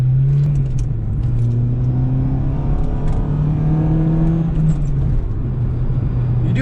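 An Acura RSX on new coilovers decelerating during a brake test, a steady engine and road drone with a falling pitch as the car slows, and light rattles inside the cabin.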